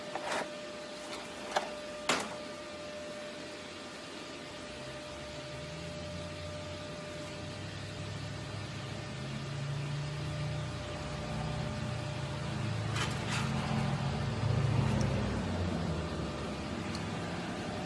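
A Miller Thunderbolt DC stick welder burning 6010 rods on 5/8 inch plate gives a steady crackling, sizzling hiss that builds after a few sharp strikes and holds for over ten seconds.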